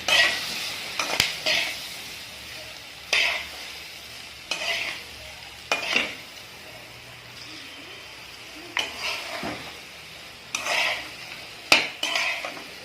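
A spoon scrapes and stirs popcorn egg burji, beaten eggs cooking in oil in a pan, in repeated separate strokes over a soft, continuous sizzle.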